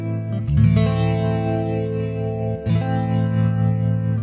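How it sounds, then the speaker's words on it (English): A sustained electric guitar chord rings through a Kemper Profiler with a slow, shallow phaser that makes the tone float and swirl. The chord is restruck once midway, loud and clear with no talking. "I toned down the phaser rate, I made it slower, and also the depth, so it's not so timed."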